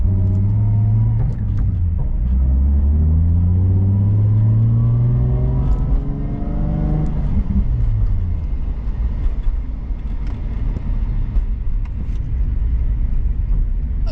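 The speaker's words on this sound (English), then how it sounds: "take this thing for a quick spin, get an experience of this differential." A Nissan 350Z drift car engine rumbles and revs with a new differential, pitch climbing through gears, then settles into a loud steady roar with tire noise, heard from inside.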